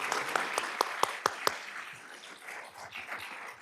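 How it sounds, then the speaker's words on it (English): Applause from the audience at a 2022 Tustin candidate forum. A few sharp, distinct claps ring out first, then the sound settles into a softer, scattered ripple of clapping across a small room. "Can we give a round of applause to all the candidates"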